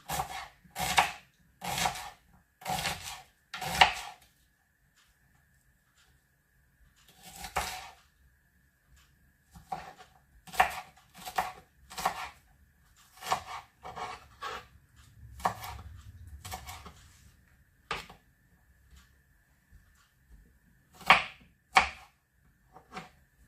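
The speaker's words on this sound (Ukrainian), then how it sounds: "і нарізаємо цибулю" A knife chops onion on a cutting board in quick bursts of sharp taps, pausing between groups, close and clear.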